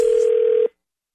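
A single steady telephone tone sounds for about two-thirds of a second during a radio prank call setup, then cuts off abruptly into silence.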